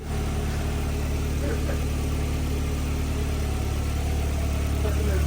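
A turbocharged Mazda Miata engine idles steadily in a concrete garage, a constant loud low rumble that carries evenly throughout with no talk heard.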